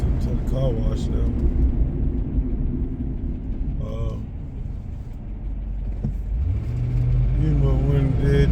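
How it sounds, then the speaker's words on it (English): A car rolls into a car wash with a low steady engine rumble and road noise throughout, briefly rising near the end, while someone talks over it. "go up into the car wash now."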